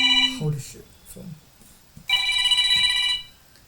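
A telephone rings with a loud, bright electronic tone in two bursts separated by a pause, close by in a room, and a voice briefly speaks near the first ring.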